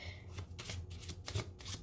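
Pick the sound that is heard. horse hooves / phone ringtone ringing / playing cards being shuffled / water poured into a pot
playing cards being shuffled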